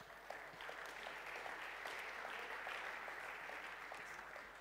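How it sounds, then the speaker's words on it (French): Applause fills the room at the 2014 E-Commerce Awards ceremony, a dense, even wash of many hands clapping heard from a distance, fairly faint and sustained without voices. "On peut les applaudir très très fort."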